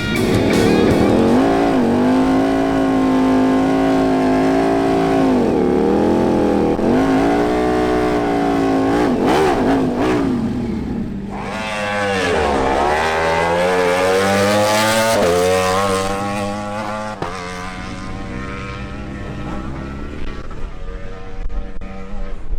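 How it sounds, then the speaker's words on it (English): Ducati Panigale V4 superbike making a quarter-mile drag race pass, its engine loud and continuous, revving hard through rising pitch sweeps as it shifts up through the gears across the whole run. "best pass on his Ducati Panigale V4, made during the 2022 Copa Carnival"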